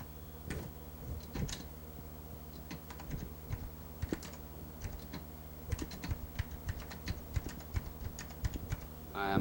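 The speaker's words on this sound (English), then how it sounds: "I will start by typing a very simple example." Someone types on a computer keyboard, quiet irregular clicks and taps in uneven bursts, close and soft, with a keystroke cluster at the end.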